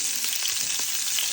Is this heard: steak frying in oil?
yes